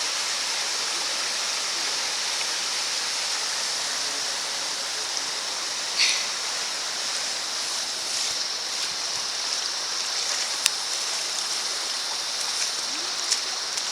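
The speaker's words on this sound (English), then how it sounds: "This is Bell Creek" Bell Creek flowing through Wollangambe Canyon: a steady, close rush of water that fills the whole clip without a break and with no talk over it.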